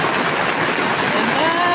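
Rainwater rushes down a hillside slope near a house in Tanahun, Nepal, a dense continuous hiss and gurgle of flowing water filling the short stretch.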